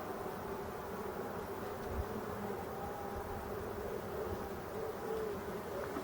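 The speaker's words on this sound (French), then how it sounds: "les abeilles sont calmes" Honeybees hum around a hive in a low, steady drone, a soft continuous buzz of many calm insects close by, with no speech.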